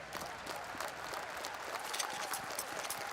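A crowd cheers and applauds steadily throughout at the PGL Major Stockholm 2021 Counter-Strike tournament, a dense wash of noise with scattered shouts, fairly distant and continuous.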